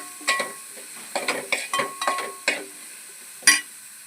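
Okra curry with curry leaves is stirred in a pan, giving a rhythmic series of scraping, clattering spoon strokes over a faint sizzle, closing with one louder knock.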